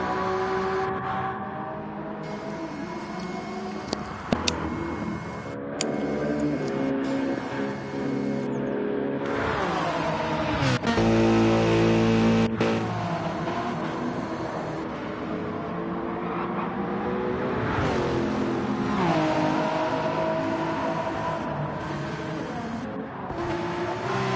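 Gran Turismo 7 race cars at Le Mans, Porsche and Lexus, rev hard through the gears with rising and falling engine whines, shifts and a loud flat-out surge midway, continuous and close.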